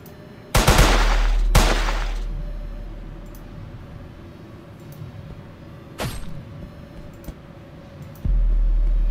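Video game gunfire rings out in a few sharp, loud shots, two close together early on, then one more and a final blast, each trailing off into a low rumble.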